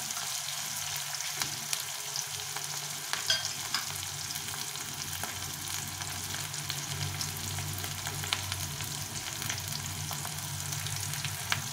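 Onions frying in a pan for a Bengali fish dish, a steady, close sizzle with scattered crackles and occasional stirring scrapes, continuous and alone without speech.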